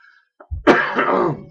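A single harsh, throaty cough bursts out close up after a brief quiet moment, followed by a short rasping trail.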